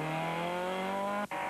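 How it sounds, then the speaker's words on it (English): Ford Escort rally car thrown broadside on gravel at a rally: a loud, strained engine note holds steady and close, then cuts out briefly near the end. "Pat Bonner throws his escort broadside and almost gets caught out on the gravel."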